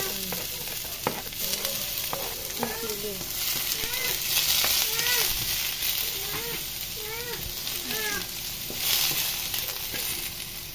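Food sizzles steadily in a pan being reused for a second round of cooking, a continuous frying hiss with scraping stirs throughout and no talk.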